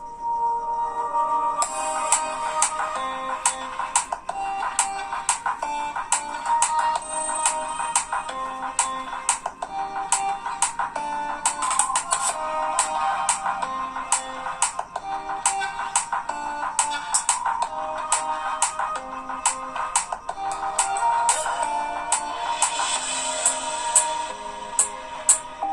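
A ringtone played through the loudspeaker of a Xiaomi Max phone during a speaker test, a bright, busy, continuous melody of quick notes, loud and steady for the whole stretch.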